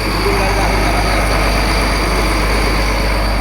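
A Kerala houseboat engine runs steadily, a loud, constant low drone with a faint whine on top that holds unchanged throughout, with no gaps or shifts in pitch.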